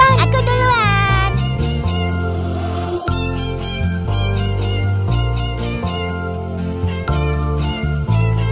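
Cat-like meows ring out over bouncy, upbeat children's lullaby music, repeating through the passage at a fairly loud, steady level.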